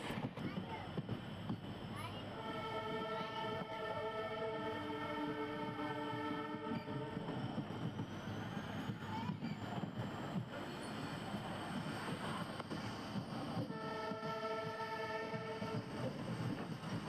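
Rameswaram to Tambaram Express rolls along at speed with a constant loud rumble of wheels and carriage, and two long multi-tone horn blasts sound, one early and one near the end.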